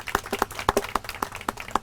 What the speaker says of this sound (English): Let's give Lisa a big round of applause.